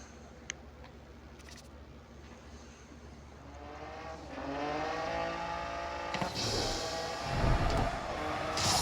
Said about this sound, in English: Oh, this Lamborghini sounds so nice.